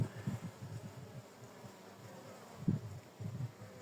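Honeybees buzz in flight around an apiary hive while carrying flower pollen in early spring, with a soft, continuous hum and a few louder passes close by.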